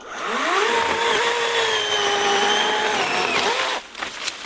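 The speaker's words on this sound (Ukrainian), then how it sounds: "Так, пробуємо пиляти тополю." A cordless battery chainsaw, a ProCraft PKA 45, cuts through poplar wood with a loud, close, steady whining buzz that holds its pitch for several seconds before it suddenly cuts off near the end.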